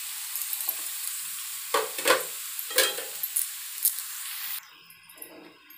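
Mixed vegetables including potato, papaya and cabbage tipped into a hot pan with softened tomato, sizzling steadily while a spoon scrapes and stirs in a few distinct bursts, then the frying quiets to a low hiss.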